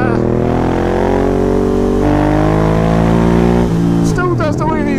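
A new motorcycle engine hums steadily and loud as the bike creeps along at low speed, its pitch gliding up and down with small throttle changes, with talk over the engine.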